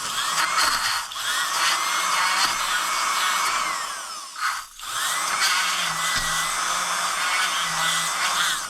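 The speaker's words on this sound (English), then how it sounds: "One thing I'm going to do with the finger holes, just bevel a little bit." A handheld power tool bevels the finger holes of an Ebonite Fireball bowling ball, a loud, close, high-pitched whine running steadily with a brief dip midway, then resuming at full speed.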